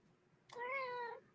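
A person imitates a cat meow, a single short rising-then-falling tonal call lasting under a second, fairly close and clear against a quiet background.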